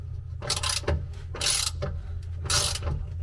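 A bolt is hand-tightened from above while a Ridgeback mount is installed on a Jeep TJ, giving three bursts of ratcheting clicks separated by short pauses, close and fairly loud with no talking.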